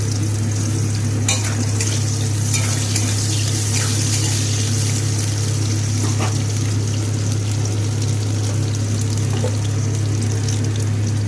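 Cauliflower florets drop into hot oil in a wok, setting off a loud, steady sizzle and bubbling fry over a constant low hum.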